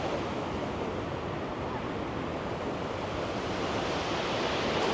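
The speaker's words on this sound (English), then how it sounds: "fresh waterfall" Glacier-fed waterfall in Iceland pours in a constant broadband rush of water, steady and full throughout with no voices over it.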